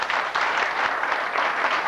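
An audience claps at the 1999 Samta Puraskar award ceremony of a police foundation in New Delhi, a short burst of dense, steady applause from many hands filling the hall.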